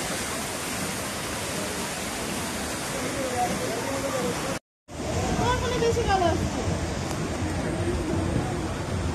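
A decorated Dudhsagar waterfall display at a crowded festival pandal in Krishnanagar gives a steady rushing roar of falling water, briefly cut off midway, while a crowd and nearby voices talk over it.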